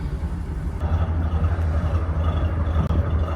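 A heritage bus belonging to Vic Track, its engine running at the Tramway Heritage Centre in Bylands: a loud, steady low rumble that holds from start to end.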